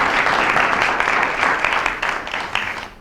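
Dense, loud audience applause at a live presentation event, a steady wash of many hands clapping for the full three seconds before easing off slightly at the end.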